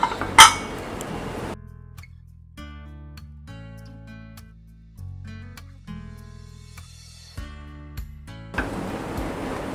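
A pressure cooker's metal lid clanks open at the start, then scattered light metallic clinks and handling sounds, with a hiss of rushing noise at the beginning and end.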